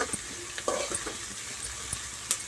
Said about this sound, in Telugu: మంచిగా ఫ్రై చేసుకోవాలి గోల్డెన్ కలర్ వచ్చే వరకు మంచిగా ఫ్రై చేసుకొని